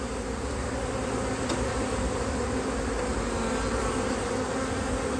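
A honeybee swarm fills an open beehive with a dense, steady buzz during a late-season colony check. The hum is close, even and unbroken throughout, with no voices over it.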